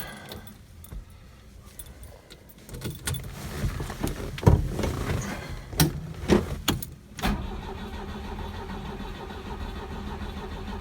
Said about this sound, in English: But even choke on one carb should get us going here.